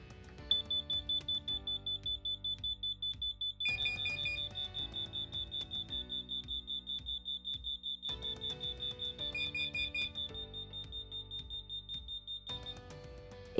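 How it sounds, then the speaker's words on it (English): Several interlinked LINKD CORE smoke alarms beep together during a button test, a loud high-pitched electronic chirp repeating steadily and rapidly over background room noise, with no talk. "All alarms should sound off together with a red flashing LED."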